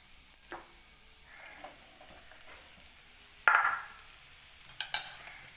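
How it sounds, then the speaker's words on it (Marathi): Sago (sabudana) fasting khichdi is tipped into a pan of cooked potatoes and stirred; a faint, quiet sizzle sits under a few sharp spoon scrapes and clinks against the pan. "तर आता मी खिचडी टाकून घेते"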